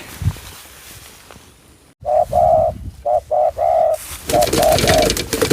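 Spotted dove (nok khao yai) cooing outdoors in the wild, a series of clear, fairly close coos in short repeated bursts after a quiet start, with some rustling background noise.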